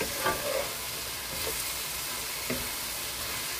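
Cucumber and napa cabbage frying in a pan for chop suey, a steady close hiss of sizzling with faint clinks of stirring throughout.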